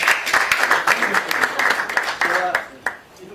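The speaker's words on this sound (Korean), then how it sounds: "박수로 안녕해 주시기 바랍니다" An audience at a founders' meeting of a coexistence and unification forum claps to welcome a speaker: dense, loud, sustained applause with a brief voice near the end.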